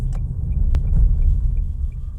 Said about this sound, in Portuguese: Vamos fazer uma aceleração para ver os níveis de ruído interno.